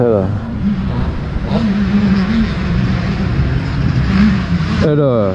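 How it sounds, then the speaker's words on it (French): An old motorcycle, unridden for at least twenty years and being run in, revs up as the throttle opens, a steady loud engine drone rising and falling with someone talking over it. "dès que j'ouvre les gaz, ça part"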